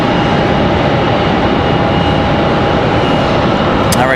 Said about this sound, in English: Sounds like our JetBlue A220 might be on the move.